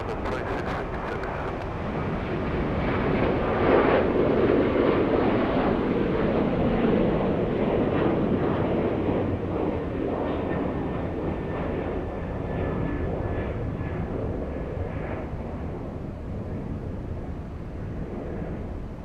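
A Boeing 757 arriving at Atlanta's Hartsfield-Jackson airport roars in as a broad, rumbling jet noise that swells and then slowly fades, heard from the ground at a distance with wind buffeting the microphone.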